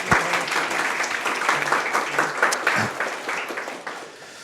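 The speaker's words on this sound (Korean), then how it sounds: "박준철 교수님 향해서 좀 파이팅으로 박수 한 번만" A crowd at a live education seminar applauds for several seconds, dense clapping that swells and then gradually thins out, with a few voices faintly audible underneath.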